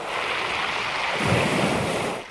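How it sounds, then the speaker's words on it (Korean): Surf washes over a Mongdol pebble beach in Korea, sending rounded stones rolling in a continuous close rush that swells midway, with wind noise and no talk. "이 소리는 그 돌들이 구르는 소리입니다"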